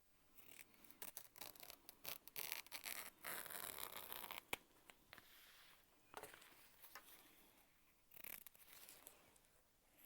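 Scissors snip and trim away excess fabric on a sewing project, quiet close-up cutting with irregular crisp clicks and rustling of cloth between short pauses, faint throughout and without talking.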